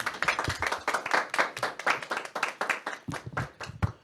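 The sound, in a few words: audience applause on a Catholic show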